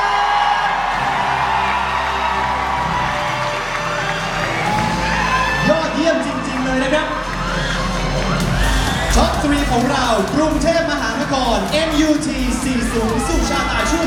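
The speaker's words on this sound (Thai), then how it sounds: "ขอเสียงปรบมือให้กับท็อปทรีของเราในปีนี้ครับ" Crowd at the Miss Universe Thailand 2024 pageant cheering, whooping and shouting as the top three contestants are announced, a loud sustained roar of many excited voices with scattered shrieks and applause throughout.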